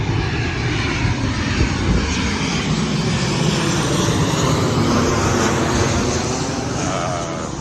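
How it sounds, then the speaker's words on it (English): A fixed-wing airplane passes overhead near the rental car lot at Los Angeles International Airport, its engine a loud, continuous roar that holds steady before easing slightly at the end. "we got a plane coming overhead"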